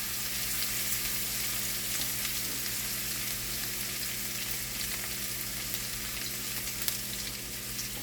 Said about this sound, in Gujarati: તેને આપણે બ્રાઉન કલરની થાય ત્યાં સુધી સોતરી દઈશું.